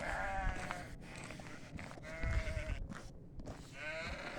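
Lambs and sheep bleat repeatedly in a livestock pen on a farm in Konya, several overlapping calls close by over shuffling and rustling noise.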